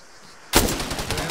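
Gunfire erupts in the video game Arma, a sudden loud burst followed by rapid repeated automatic shots close by.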